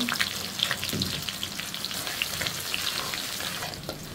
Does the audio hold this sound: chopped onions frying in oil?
yes